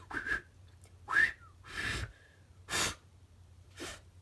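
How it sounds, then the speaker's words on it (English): A person tries to whistle but mostly blows air, producing several short breathy puffs with faint, thin whistle tones, close and quiet. "Oh, I can't whistle."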